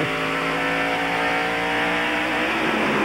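NASCAR stock cars roaring through the corners at the 1993 Busch 500, a loud, continuous engine drone with layered revving tones that holds steady throughout.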